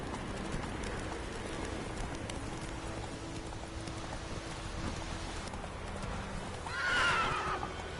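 A horse gallops in The Witcher 3 with steady close hoofbeats and a soft rain-like background, and a loud whinny rises near the end.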